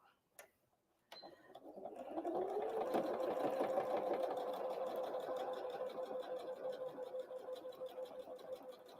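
A sewing machine starts up after a couple of clicks and runs in a steady, fast whirring stitch, sewing a Christmas tree napkin closed along its edge, close and fairly loud.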